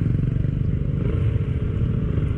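A local motorcycle engine rumbles close by in a steady low putter, loud and continuous for a couple of seconds with a faint clattering edge.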